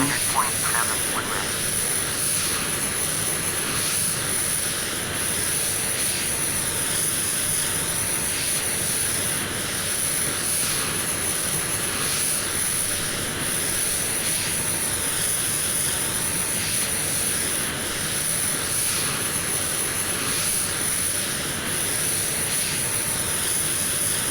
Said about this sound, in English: Start right engine.